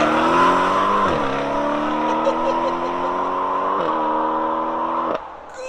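A car with its muffler removed drives off, the loud raw exhaust climbing through the gears with distinct shift drops before fading as it pulls away.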